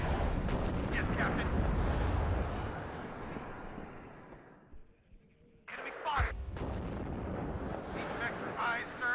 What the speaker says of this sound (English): The artillery is a little scary.